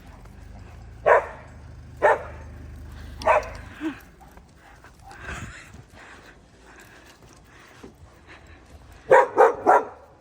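A Samoyed dog barks nearby: three single barks spaced about a second apart, then a quick triple bark after a quieter stretch of faint movement.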